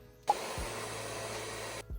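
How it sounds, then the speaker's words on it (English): A hair dryer switches on and blows with a steady, loud whoosh for over a second before cutting off. "the hairdryer thing did not work"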